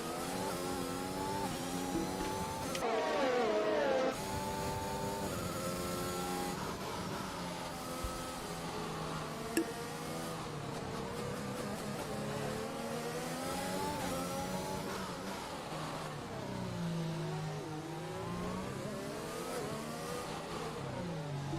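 Several F1 race cars, Mercedes and McLaren among them, in the F1 2021 game at Monaco, hold a continuous high engine whine that rises and falls through gear changes, loud and close, with no talk.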